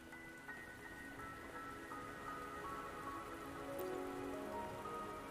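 Steady rain falls in the Wuthering Waves video game world, a continuous soft hiss of drops on surfaces, fairly even throughout with faint tonal game music beneath.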